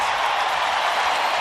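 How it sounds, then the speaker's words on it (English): Basketball arena crowd at an NCAA-style game roaring in a steady, dense wash of cheering and noise that holds loud and unbroken throughout, with no clear individual voices standing out. "Listen to the crowd react."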